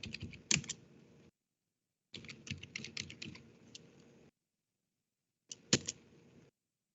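Quiet bursts of rapid keystrokes on a computer keyboard as a command is typed, three separate runs of clicking with pauses of silence between them, close and faint.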